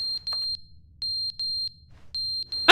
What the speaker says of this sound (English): Oh, the alarm.